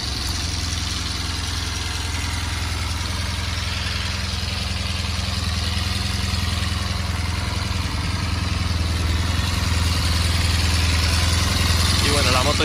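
A Honda RC30 VFR750R motorcycle engine idles steadily and loudly throughout, warm, a constant low rumble with a faint mechanical clatter.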